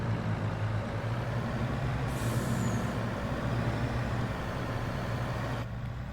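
An old truck with an 18-speed manual transmission in Farming Simulator runs steadily, its engine droning loud and close, with a hiss partway through and a brief dip in tone near the end as it shifts gears.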